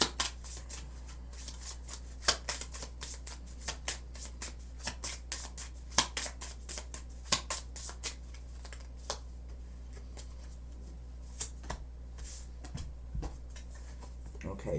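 Money, career and finance oracle cards being shuffled and drawn, with a run of sharp, close card snaps and flicks in an irregular rhythm over a steady low hum, while a voice talks intermittently.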